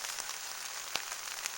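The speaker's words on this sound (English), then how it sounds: "It's raining pretty good out there." Rain falls on a tent tarp in a steady, dense hiss, with a few sharper drop taps standing out now and then. No one speaks.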